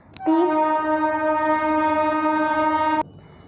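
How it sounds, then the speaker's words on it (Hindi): A train horn blasts loud and steady for nearly three seconds from a nearby railway track, a sustained harmonic tone that starts and cuts off abruptly, with no talk over it. "क्योंकि आपको मेरी जगह ट्रेन की आवाज़ सुनाई दे रही होगी"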